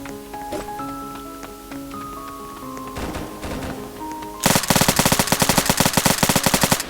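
Video game gunfire, likely a pistol or CHAA12 shotgun: after a few scattered shots and muffled game sounds, a long rapid burst of loud, close, evenly spaced shots fills the last two and a half seconds, with no talking.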